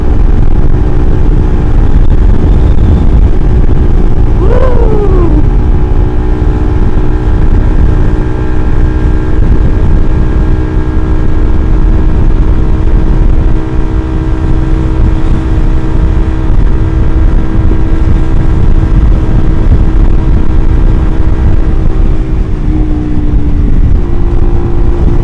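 Suzuki GSX R150 motorcycle fitted with an R9 Mugello racing exhaust, its engine droning loud and steady close by for the whole stretch, with a brief rise in revs near the start and a slight shift in pitch toward the end.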